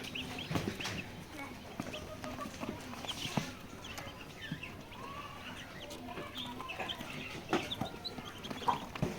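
Many two-day-old layer chicks at a sale chirping together in a busy, high-pitched chorus, close and continuous, with scattered louder peeps and some background clatter.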